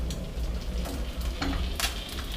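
Cut-up steak pieces stirred in a pot of ramen broth, a dense bubbling hiss with a few quick scraping strokes near the end, no talking.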